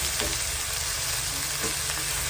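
Stuffed pork spare ribs fry in a pan as they are flipped, a steady close sizzle with a few soft clicks of the utensil.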